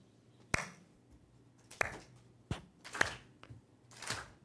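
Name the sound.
audience clapping hands in rhythm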